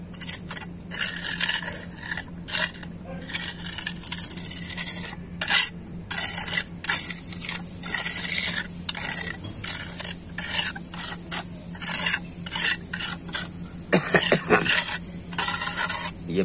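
A thick wet roof-repair mixture is stirred and worked, giving a steady scraping, rasping texture with irregular strokes that stays close and moderately loud throughout, with no talk over it.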